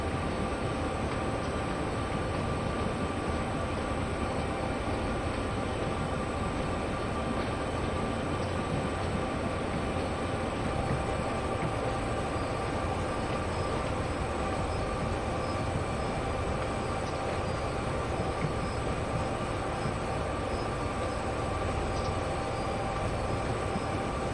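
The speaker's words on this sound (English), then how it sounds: "There's another coal train." A video game coal train runs steadily on Sherman Hill near Cheyenne yard, a continuous rumbling drone and clanking undertone, unchanging and fairly loud throughout, with no voices.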